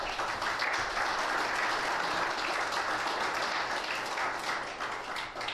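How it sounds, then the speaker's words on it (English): A room full of audience members applauds candidates at an evening school district candidate forum, steady sustained clapping filling the space for several seconds before tapering slightly at the end. "if we'd give them a round of applause"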